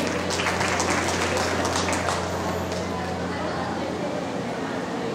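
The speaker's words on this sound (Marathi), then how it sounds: "टाळ्यांचा गडगडाट" Applause from a gathered audience at a singing program, a steady broadband patter lasting the whole stretch and fading slightly toward the end, with a low steady hum underneath.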